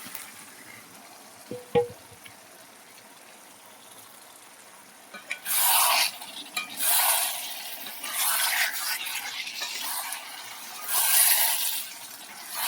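Just over a kilo of chicken dropped into hot spiced oil in a pan. After a quiet start come intermittent bursts of sizzling and stirring that swell and fade several times.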